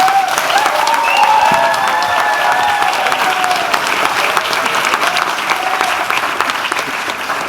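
Dense, steady audience applause fills the hall after a student theatre performance of a satirical stage play, many hands clapping loudly and continuously without pause.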